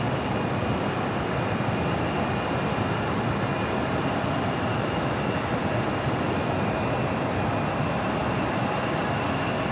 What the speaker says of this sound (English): Next arrival is Kuwait Airways, flight 117, coming in from Kuwait City on an A330 Neo